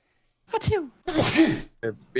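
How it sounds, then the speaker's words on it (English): A single sharp sneeze bursts out at close range, with brief voice sounds just before and after it. "I'm gonna sneeze."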